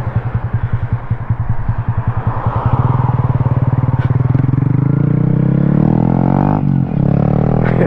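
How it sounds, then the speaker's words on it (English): A 2023 Honda Grom motorcycle engine with an aftermarket exhaust idles with a rapid, throaty exhaust pulse, then revs up into a loud, sustained rumble close by. "As you can hear, this exhaust, man, it's louder now."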